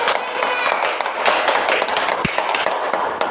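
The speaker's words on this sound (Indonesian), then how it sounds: "Oke, tepuk tangan." Children in a classroom clap their hands together after a song, a lively cluster of quick, uneven claps close by, with voices mixed in and one sharp tap standing out near the end.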